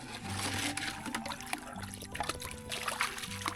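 Water scooped and poured from a drinking-water well in a rice field in rural Laos, with close splashing, trickling and sloshing that comes and goes in uneven bursts.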